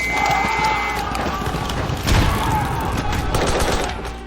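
Battlefield gunfire in a war film scene, with dense rapid shots and bursts crackling continuously and a louder cluster of blasts near the middle, all close and harsh.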